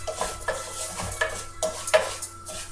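A utensil stirs ground pepper into rice browning in a pan, giving a few scraping, clinking strokes against the pan with a light sizzle beneath, close and moderately quiet, with no talking.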